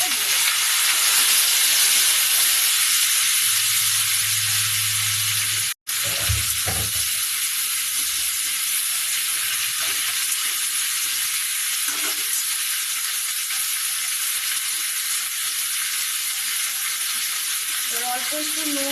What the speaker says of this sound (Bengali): জিরেটা এখন হালকা লাল হয়ে গেছে, তখন আমি কেটে রাখা এই কচু এবং আলুটা দিয়ে দেবো।